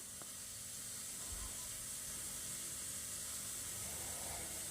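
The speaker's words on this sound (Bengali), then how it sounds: "এইভাবে আমি ভেজে নিচ্ছি হালকা করে" Chicken pieces for chili chicken fry lightly in a pan, giving a steady, soft, even hiss and sizzle that holds unbroken throughout, close and quiet with no talking.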